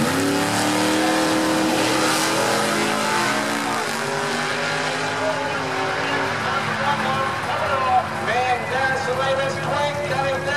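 Drag racing cars, including a Camaro, launch down the strip with a loud, sustained V8 roar that holds steady and close for the whole stretch.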